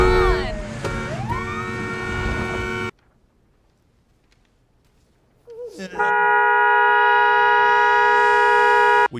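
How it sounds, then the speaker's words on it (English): An ambulance in a movie scene blares its siren and horn in loud, steady bursts, with a sudden cut to near silence before another harsh, sustained horn-and-siren blast returns. "adult Madam Web honking the horn of an ambulance"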